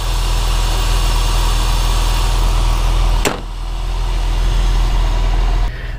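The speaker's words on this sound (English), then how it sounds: "The engine's still running, so you might be able to hear that." A 1998 Porsche 911 996 engine idles steadily and loudly up close, a constant low rumble with a brief sharp click partway through and the level dropping slightly near the end.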